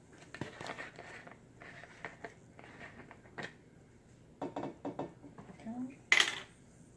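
Dishes clatter and scrape as a freshly washed pan is dried with a towel at a home kitchen counter, soft rubbing broken by knocks and a sharp metallic clank near the end.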